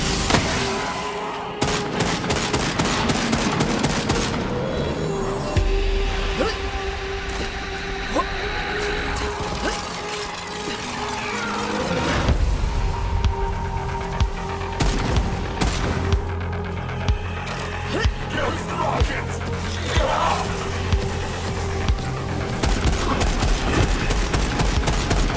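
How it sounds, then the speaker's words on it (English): A radiation sniper rifle firing in Borderlands 3, heavy sharp shots and crashing impacts scattered over about 25 seconds amid mechanical clatter and game effects, with a voice talking. "Radiation sniper rifle is wrecking him."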